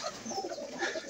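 Pigeons in a small enclosure give soft, low cooing calls, faint and close, in a brief murmuring stretch with no talking.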